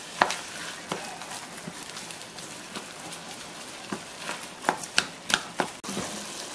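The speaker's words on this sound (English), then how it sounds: "Go ahead and get this browned up" Ground lamb and beef browning in a pan, a soft continuous sizzle broken by sharp scraping and chopping taps of a spatula, growing more frequent toward the end, with no talking.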